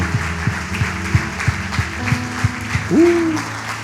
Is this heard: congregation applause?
yes